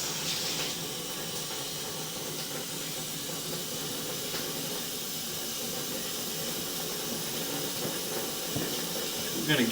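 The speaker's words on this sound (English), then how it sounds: "I end up running some water here in the stationary tub off to the side of the basement" Tap water runs steadily into a stationary tub in a basement, a continuous even hissing rush heard close, with faint voices in the background.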